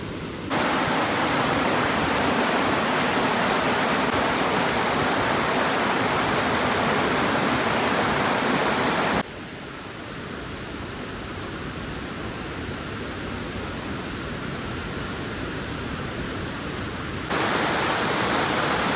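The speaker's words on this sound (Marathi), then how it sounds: "तर फायनली वॉटरफॉल दिसलेला आहे बघा" A waterfall beside a railway track, its steady loud rushing roar filling the whole clip, with a sudden drop in level partway through and a rise again near the end.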